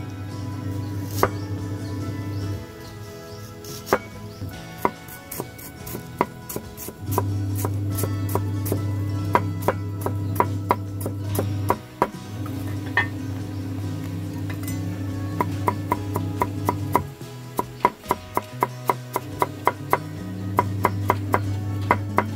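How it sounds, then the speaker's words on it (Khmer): Ginger is chopped with a knife while chicken rice is prepared, giving a run of sharp, close knocks in uneven bursts. They sound over a steady low drone and pause briefly several times. "ចាប់ដើមហាន់ខ្ញី"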